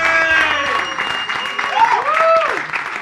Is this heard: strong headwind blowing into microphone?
no